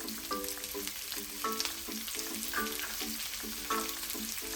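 Onions and green chillies fry in a pan for a South Indian tomato bath, with a steady close sizzle and crackle and regular scraping stirs running throughout.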